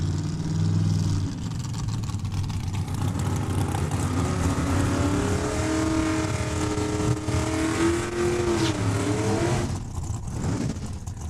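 A dragster and an Alpine Sunbeam at a drag racing elimination round, Saskatchewan International Raceway, engines roaring loud and steady throughout, with a revving rise and tonal sweeps midway before a brief dip near the end.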